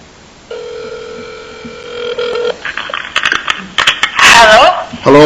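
A telephone on speakerphone plays a steady dial tone, then a burst of dialing and ringing tones before a connection clicks through and a voice begins speaking over the line.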